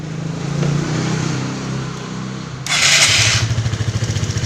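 A Suzuki Skydrive scooter with a battery that will not charge has its electric starter whir briefly, then the engine catches and settles into a loud, close, steadily pulsing idle.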